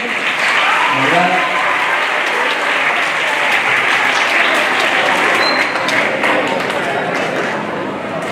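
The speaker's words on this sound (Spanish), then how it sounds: "aplauso para estos chicos, que se escuche." At a children's science event, an audience claps loudly and continuously in a dense, sustained round, with a brief voice sounding faintly early on beneath the applause.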